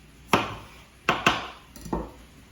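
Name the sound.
knife cutting a thick cauliflower steak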